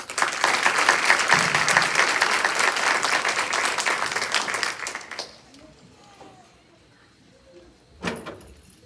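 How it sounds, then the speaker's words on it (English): Loud applause from a crowd fills the first five seconds, then fades to quiet room noise with a brief burst of clapping near the end, at a school board meeting in an elementary school. "Let's have another big round of applause, because that was not easy for them to do"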